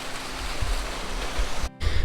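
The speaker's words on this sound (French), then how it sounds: "Bon du coup je suis à la cascade." Waterfall in a canyon at Pai, Thailand, a dense steady roar of falling water close by, filling the whole short stretch with one brief dropout near the end.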